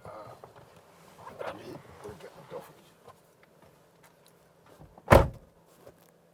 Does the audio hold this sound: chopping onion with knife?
no